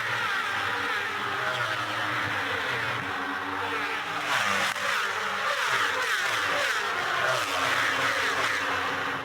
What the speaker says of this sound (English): So what a moment this is for teenage sensation Ollie Bayliss. The factory Ducati leads.